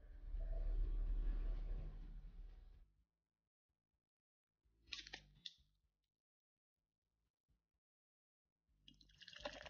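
Liquor splashes into a glass in two short bursts of pouring, set apart by quiet gaps, after a loud low rumble at the start.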